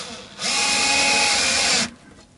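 A power screwdriver drives screws to close up a Stratocaster-style partscaster guitar. One steady, high whirring burst lasts about a second and a half, with quiet before and after.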